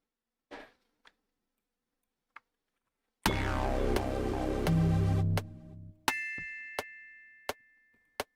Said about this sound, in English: First thing was a bell.